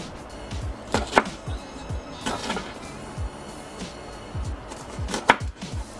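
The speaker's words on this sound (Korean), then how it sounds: "썰어서 넣겠습니다. 열렬한 칼질." A dull knife chops chili peppers on a board, struggling to cut cleanly, a string of close, sharp irregular knocks with a couple of louder strikes and brief scraping between them, no talking.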